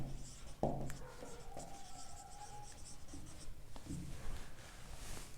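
Chalk or marker writing on a board during a math lecture on partial differentiation and Euler's theorem: soft scratching strokes and taps, a few sharper knocks, faint and close in a quiet room with no talk.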